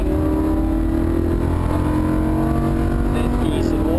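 A Lamborghini Huracan on a race track holds a loud, steady engine drone with a rising pitch late on, heard from close by and without voices.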